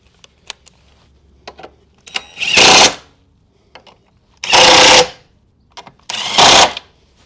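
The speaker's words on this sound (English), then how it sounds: "loosely tighten up your bolts first, make sure everything's lined up, and get these whacked in." Three loud, sustained bursts from a power tool driving bolts on a strut brace for a 2001-2006 Mini Cooper S R53, separated by quieter clicks and handling sounds, close up and with no speech.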